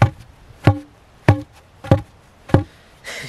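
A homemade post driver strikes a fence post sitting on a rock underground, giving five evenly spaced, sharp metallic clanks about every 0.6 seconds, close and loud, followed by a brief rustle.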